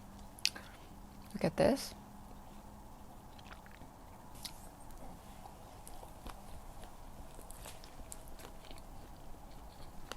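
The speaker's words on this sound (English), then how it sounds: "let me try this hot dog gimbap" Someone bites into and chews hot dog gimbap, a Korean seaweed rice roll with sausage, making a few faint crunching bites early on and then quieter chewing, with a brief spoken remark.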